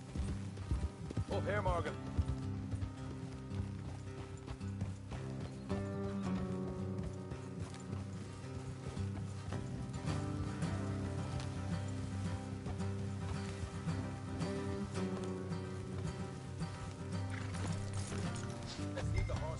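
Horses' hooves clip-clop steadily on a road in Red Dead Redemption 2, a rhythmic clatter beneath a game music score, with a character speaking briefly over the riding.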